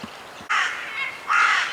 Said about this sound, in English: some rather loud seagulls behind me